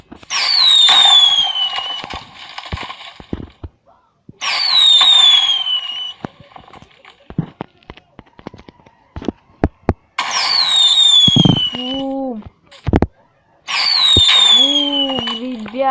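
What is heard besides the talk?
fireworks exploding in a video game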